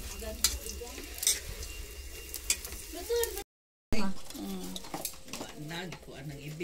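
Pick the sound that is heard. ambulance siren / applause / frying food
frying food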